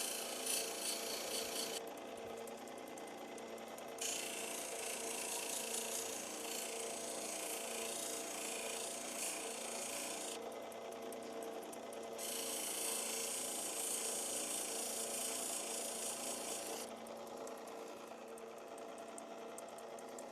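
Steady abrasive whirring of a carving or sanding tool grinding an Oregon sunstone, a continuous near buzz with brief dips and shifts in pitch, no voices.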